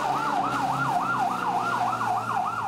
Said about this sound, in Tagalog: 3 fire truck ng Bureau of Fire Protection ang rumisponde.